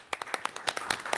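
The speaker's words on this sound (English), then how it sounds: "I think that we should get a round of applause to a wonderful job by Mr. Mulvaney." A few people clap at a city zoning board meeting, sparse separate claps landing irregularly with gaps between them, fairly quiet and close, with no talking over them.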